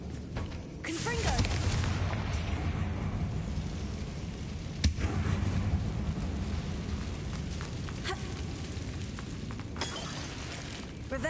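A Confringo fire spell explodes in Hogwarts Legacy with a burst and a crackling, shattering rumble, then a second sharp impact midway, followed by a long fading roar under scattered later cracks.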